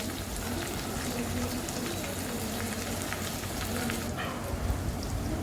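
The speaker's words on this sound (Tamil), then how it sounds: "கொஞ்சமாக வெங்காயம் கருவேப்பிலை போட்டு நல்லா வதக்குங்க" Onion and curry leaves fry in a hot pan, giving a dense, steady crackling sizzle like rain that runs throughout, with a small shift near the end.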